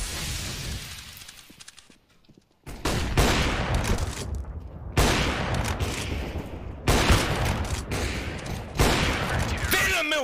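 Counter-Strike gunfire erupts in loud rapid bursts, with automatic-weapon fusillades separated by brief silent gaps and a short lull near the start, while a voice talks faintly underneath.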